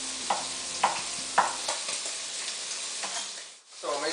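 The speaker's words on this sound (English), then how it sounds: "So, I'm going to start rendering this bacon first." Steady sizzling of bacon rendering in a pan alongside diced potatoes, close and constant, with a few scraping stirs of a utensil against the pan.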